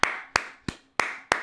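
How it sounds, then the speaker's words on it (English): Five sharp, close hand claps at an even, unhurried pace, each ringing briefly before the next, in a small round of applause. "Can we get a round of applause for Lydia?"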